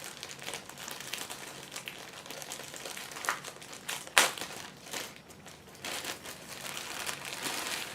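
Close crinkling of thin plastic, with a steady rustle and a sharp crackle partway through as the bag is pulled open.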